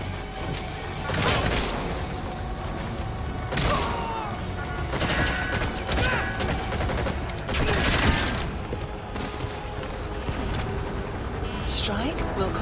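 A requested air strike in Metal Gear Solid V: The Phantom Pain, heard as a dense rolling fusillade of rapid explosive impacts and rumbling booms, loud and continuous throughout.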